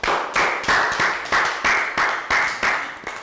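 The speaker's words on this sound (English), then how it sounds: "Can we have a round of applause for Team Strawberries?" A classroom of young children claps in unison for a team, about nine sharp, evenly spaced group claps in a brisk rhythm, close and fairly loud, each one decaying quickly.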